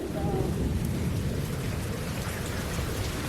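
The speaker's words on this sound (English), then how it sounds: "I've never seen hail that big" Large hail falling during a storm makes a dense, steady roar of pattering impacts, loud and continuous throughout.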